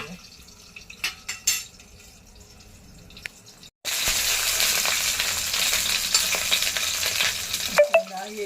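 Konkani-style stuffed brinjal cooking in a pan: a few quiet clicks and taps, then a sudden loud, steady sizzle that fills the rest, with occasional spatters.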